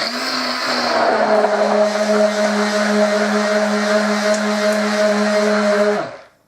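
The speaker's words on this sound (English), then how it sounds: "Give that a small or short whiz with the blender just to thicken it slightly so they are roughly equal." A blender briefly whizzes a soap mixture to thicken it, producing a steady, close motor hum with a constant whine for about six seconds before cutting off abruptly.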